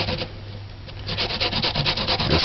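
Cassava root being grated by hand, a close, loud rhythmic rasping scrape repeating in quick strokes that grow steadier and stronger, with no voices.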